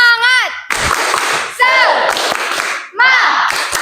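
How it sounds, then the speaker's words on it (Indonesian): A classroom of students performs a rhythmic spirit clap in short bursts of group clapping and thumps, separated by brief shouted calls, with voices chanting between the bursts. "Yuk. Tepuk semangat ya. Tepuk semangat."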